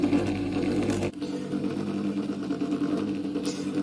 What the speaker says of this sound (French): Là, vous avez le moteur qui tourne assez vite